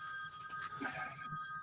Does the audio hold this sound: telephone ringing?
yes